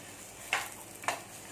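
Cumin and fennel seeds sautéing briefly in a pan give a faint background sizzle, broken by two sharp stirring scrapes about half a second apart.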